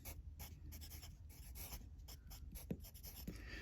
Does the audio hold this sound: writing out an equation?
yes